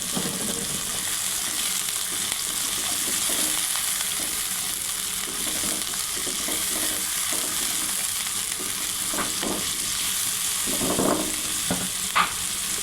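Katla fish curry with bitter gourd cooks in a pan, giving a continuous close sizzle and bubbling with occasional soft clinks of a stirring utensil.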